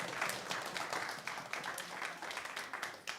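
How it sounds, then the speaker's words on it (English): Town hall audience applauds show producers, a dense, steady wash of clapping from a room full of people, moderately loud and continuous throughout. "Everyone else applaud for them"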